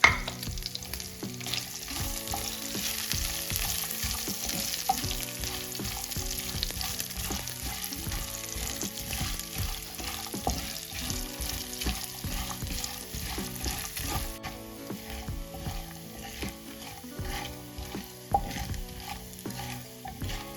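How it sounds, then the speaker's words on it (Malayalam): Chopped coconut pieces fry in a masala for Kerala beef roast, giving a steady close sizzle broken by repeated scraping and stirring strokes of a spoon in the pan throughout, with no talking. "അതിനുശേഷം നമുക്ക് ഈ അരിഞ്ഞ് വെച്ചിരിക്കുന്ന തേങ്ങാക്കുത്തുകൾ ഇടാം. ഒന്ന് വാടി വരട്ടെ."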